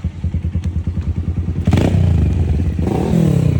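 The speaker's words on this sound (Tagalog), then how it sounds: "Narinig ko kasi motor mo nagabomba-bomba ka" A motorcycle engine puts out rhythmic pulsing throttle blips, then revs hard into a loud, rising roar close by.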